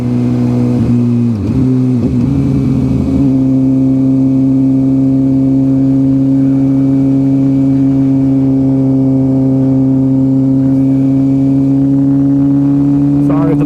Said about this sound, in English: It's got that full Brox exhaust system on it, but it feels good.